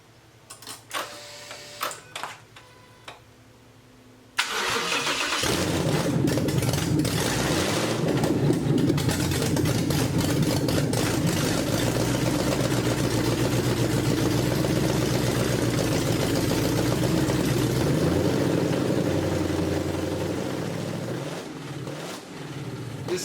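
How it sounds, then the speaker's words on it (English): Roughly 600 horsepower engine in a 2007 Ford F-150 fires up and settles into a loud, steady, rumbling idle close by, continuing evenly for about twenty seconds after a few brief clunks and rustles. "This truck, we got it fired up, and the sound is so tasty that I can't wait to put the power to the ground."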